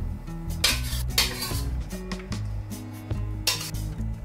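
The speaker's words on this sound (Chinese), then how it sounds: "就可以出锅装盘了" Braised eggplant scooped out of a pan onto a plate, with several metallic scrapes and clinks of a spatula against the pan and dish over a faint residual sizzle, close by.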